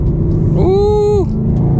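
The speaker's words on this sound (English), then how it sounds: "Listen to them downshifts." Chevrolet Camaro ZL1 1LE with the 10-speed automatic blipping through a downshift, a loud, close engine rising sharply in pitch then settling back, over steady in-cabin road rumble.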